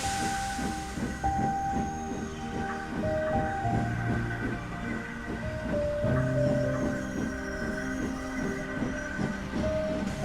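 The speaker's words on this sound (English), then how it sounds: "They were suddenly interrupted by the noise of a goods train arriving from Barrow" A goods train from Barrow draws in with a continuous rumbling, hissing rail noise that stays steady and fairly loud throughout, carrying faint whistle-like tones over the running clatter.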